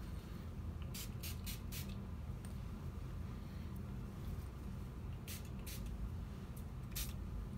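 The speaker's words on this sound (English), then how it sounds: "I'm gonna put setting spray over it." Makeup setting spray is misted in a few quick, soft hissing bursts, one cluster early and another near the end, faint against a quiet room.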